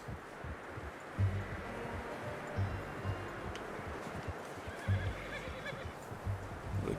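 Horse neighing in Red Dead Redemption 2, a loud whinny rising over constant ambient game noise with a few hoof-like thumps, heard alone without talk.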